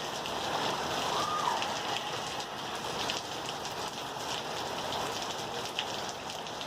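Hard rain from a pop-up afternoon thunderstorm in Green Valley, a dense continuous hiss of a downpour pattering on surfaces nearby, steady throughout with no talk.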